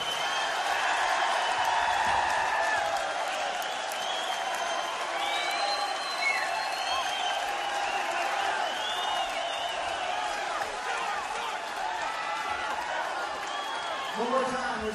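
A crowd applauds Joe Satriani at the Fillmore Auditorium in 1988, sustained loud clapping with scattered whoops, steady throughout.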